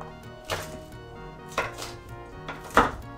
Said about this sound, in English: I just start chopping them like this